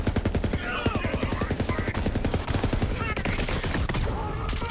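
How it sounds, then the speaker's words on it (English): Rapid gunfire from a gun in Borderlands 3, a dense, fast, evenly spaced stream of loud close shots running the whole time, with brief voice or effect sounds mixed underneath. "I'm shooting here"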